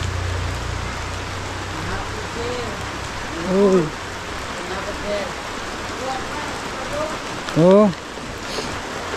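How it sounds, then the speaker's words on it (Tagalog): Rain falls steadily on a house, a constant broadband hiss under a voice that speaks briefly, with a couple of short vocal sounds rising above the patter. "Umulan."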